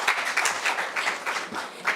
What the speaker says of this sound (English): A round of applause for the presenter,